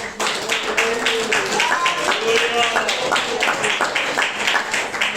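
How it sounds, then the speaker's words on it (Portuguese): A church congregation claps joyfully in a steady rhythmic beat, the claps loud and continuous over music and singing. "as palmas bem alegres para Jesus"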